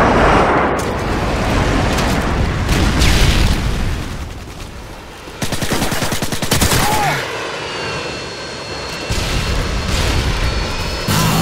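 Booming blasts and rattling gunfire from a Predator missile strike in Call of Duty Modern Warfare 2 multiplayer, loud and dense, with a sharp burst of impacts midway and continuous rumble throughout.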